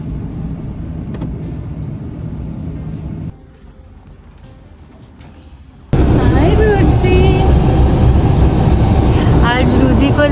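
A car engine idles steadily, then drops away quieter for a few seconds before a louder stretch of road and cabin noise returns with talking over it.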